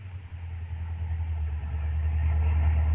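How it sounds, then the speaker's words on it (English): A car engine rumbles at low speed as the vehicle pulls slightly off the road to park, a steady near idle-like drone that swells a little toward the end, with no voices. "Have to pull the car a bit off the road, though, to park."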